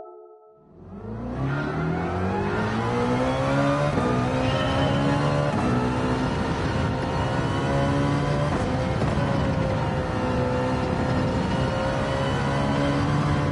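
A race car engine in a racing video game on a Barcelona circuit, starting quiet then roaring into a loud sustained rev that climbs and drops through gear changes, steady and close with no talk.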